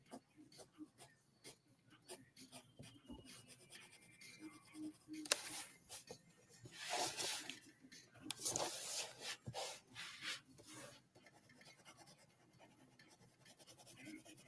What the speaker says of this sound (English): I'm making all these scratchy noises with the pencil